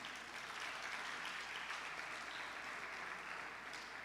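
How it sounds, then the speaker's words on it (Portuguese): An audience at a church event applauding for Jesus, a continuous, steady crowd clapping that sustains evenly across the moment. "Vamos aplaudir Jesus por isso."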